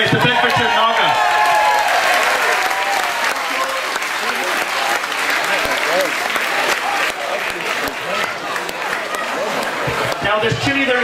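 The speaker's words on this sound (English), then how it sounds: "Guys, give them a round of applause." A festival crowd at a chilli eating contest final in Woburn Sands gives loud, sustained applause, dense clapping mixed with crowd noise and a few voices rising over it.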